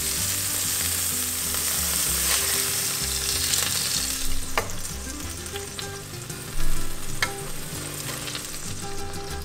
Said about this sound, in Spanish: vamos a sellar ligeramente los bisteces, solo de vuelta y vuelta